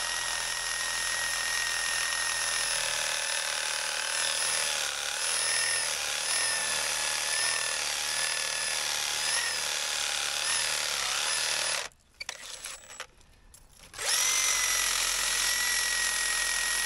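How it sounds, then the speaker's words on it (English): Sawzall reciprocating saw cutting into soft black mortar under a crumbling concrete canopy, a loud continuous buzzing drone that cuts out briefly near the end and then resumes. "we've got this sawzall, and it's only black mortar underneath"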